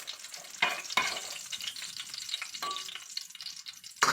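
Dried fish frying in hot oil, a continuous crackling sizzle broken by several sharp scrapes and pops as the pieces are moved in the pan.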